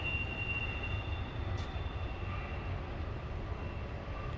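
A train rumbling past near the Route 66 museum in Kingman, Arizona, a steady low roar with faint high wheel squeal, continuous throughout at moderate distance.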